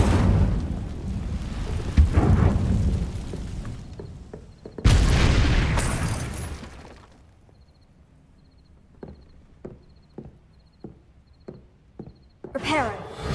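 A fiery Incendio spell blast in Hogwarts Legacy bursts with a loud roaring whoosh and rumbling boom, then fades to crackling scattered hits and quiet ticks, with a voice speaking over the opening.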